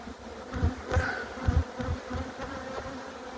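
A swarm of honey bees buzzes steadily and close up at a hive, with a dense droning hum and a few louder passes of individual bees over a low rumbling background.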